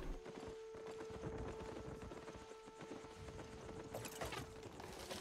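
Mule hooves clip-clopping in the video game Albion Online, a quiet steady walking rhythm over a soft ambient background with a faint tonal hum.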